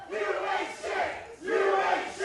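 Wrestling arena crowd jeering a billionaire playboy wrestler before a knockout-or-submission match, two loud swelling waves of collective booing and shouting with a brief dip between them.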